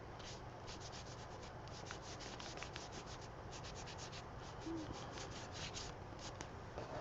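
Paint being scraped across a magazine art journal page, a steady dry rubbing and rasping that continues without pause, close and fairly quiet, with no voices.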